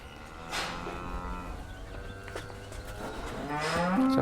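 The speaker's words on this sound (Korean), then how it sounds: "젖소를 초지에 풀어놓는 방목 작업으로 조용하던 목장이 시끄럽다" Dairy cows mooing on a farm as they are let out to pasture, several long lowing calls from the herd at moderate distance, with a louder, closer moo building at the end amid farmyard background noise.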